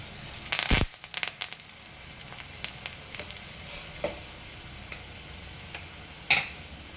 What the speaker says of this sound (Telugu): కొంచెం అయితే కరివేపాకు వేస్తున్నాను